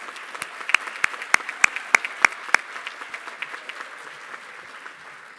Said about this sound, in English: I would like for us to give them a round of applause.